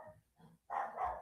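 A household's dogs bark indoors, a few quick, fairly faint barks followed by a louder pair close together.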